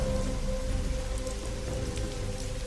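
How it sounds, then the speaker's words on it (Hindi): Heavy rain falls steadily, a dense, continuous hiss of drops with a low rumbling undertone, loud and unbroken throughout; no talking. "धीरे धीरे बारिश शुरू हुई और कुछ ही देर में तेज बूंदाबांदी होने लगी"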